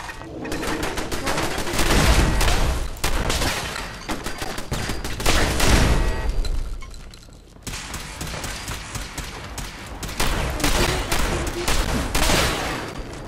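Sustained gunfire in Fallout 4 during a firefight: rapid, dense volleys of shots, loud and close, with a brief lull partway before the shooting resumes.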